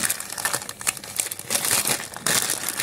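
A transparent plastic pouch of screws is opened during an unboxing: close, busy crinkling and crackling of plastic that comes in uneven bursts and includes a few tearing rustles.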